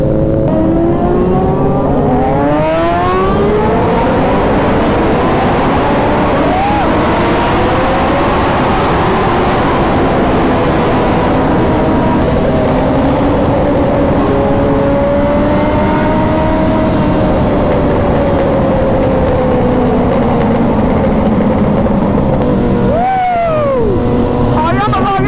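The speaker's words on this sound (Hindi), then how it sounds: "मैं चाहता था कि आवाज सुनाई दे एंड प्रॉपरली रिकॉर्ड हो सारी बाइक्स की" A group of loud superbikes revs and rides together on a Diwali outing in India, engines roaring continuously close by with rising and falling pitch sweeps as riders accelerate, some voices mixed under the dense engine noise.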